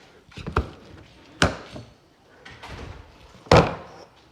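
An RV pass-through storage door on a 2019 Salem Hemisphere GLX 282RK travel trailer, held by magnets, being handled: several sharp hollow thumps and a final loud slam, close by, with quiet gaps between.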